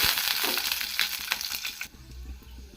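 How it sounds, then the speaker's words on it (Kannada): Masala fries in hot oil in a pan for a chicken sambar, giving a soft, continuous sizzle with a few crackles that eases toward the end. "ಎಣ್ಣೆ ಸ್ವಲ್ಪ ಬಿಸಿ ಆಗಬೇಕು ನೋಡಿ ಇನ್ನೇನು ಎಣ್ಣೆ ಬಿಸಿ ಆಗ್ತೇವೆ ಮೊದಲನೇದಾಗಿ ಮಸಾಲ ಸೇರಿಸ್ಕೊತ ಇದ್ದೀವಿ"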